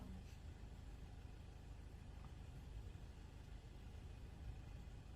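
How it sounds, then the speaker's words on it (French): A car engine idling at night, a low steady rumble that is faint and distant under a soft background hiss, with no talking. "On entend le bruit de son moteur."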